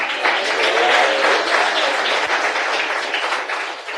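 Congregation applauding during a church sermon: a dense, steady wash of many hands clapping together, fairly loud and continuous for the whole stretch, with no clear voice on top.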